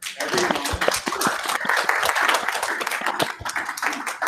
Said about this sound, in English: So applause for everyone.